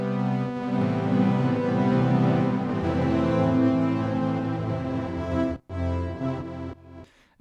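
Sonicware Texture Lab granular effects with the global reverb switched off, a dry, glitchy, dense harmonic texture that shifts and stutters, with abrupt brief dropouts near the end, played alone without talk.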